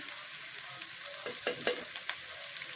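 Ingredients for a banana flower curry sauté in a pan with a soft, steady sizzle, broken by a few sharp spatula scrapes and clicks near the end, with no voices.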